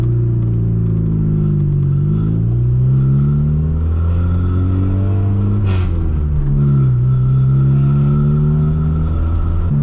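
Honda Civic EF with a new exhaust driving off, the engine note rising and falling through gear changes with a raspy, tinny drone and a brief clatter midway, close and steady.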